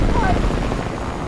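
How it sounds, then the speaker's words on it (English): A helicopter in the video game Fortnite drones steadily at close range, a continuous low rotor rumble filling the whole moment with no break. "Helicopter, bro."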